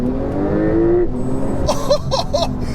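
A Porsche 911 Turbo S launching in sport mode with traction control on, engine held near 4,000 RPM then revving hard as the tires spin, loud and close with a short whine.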